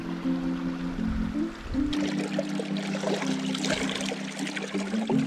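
A mountain stream runs parallel to a hillside trail, flowing and trickling steadily close by with a constant bright splashing wash and no talk.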